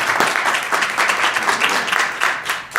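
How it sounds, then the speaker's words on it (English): Loud, brisk applause from a school committee meeting audience for students, a close burst of many clapping hands that holds steady for a few seconds. "Give me a round of applause for those students"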